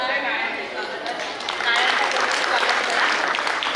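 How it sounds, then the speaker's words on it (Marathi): Loud applause from a school annual function audience, dense steady clapping filling the whole stretch and swelling slightly louder midway, with no speech over it. "सगळ्यांनी प्लीज जोरदार टाळ्या"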